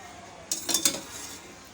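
Chana rice made with raw rice and chickpeas is mixed in a pot, giving a short cluster of three or four metallic scrapes and clinks of a spoon against the pot, moderately close, with a quiet room behind.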